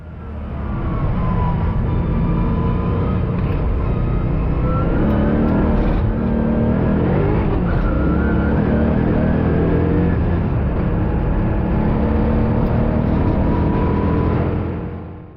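A right-hand-drive conversion car fitted with Cook's headers accelerates hard and steadily through the gears, its engine note loud, close and continuous, with rising pitch sweeps at each shift and no talking.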